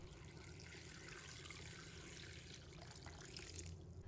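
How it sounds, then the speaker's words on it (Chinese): Clean water poured from a tap into a large bowl of salted bitter melon, heard as a faint, steady running and trickling wash with a low hum beneath, no voices. "再倒满1大碗清水"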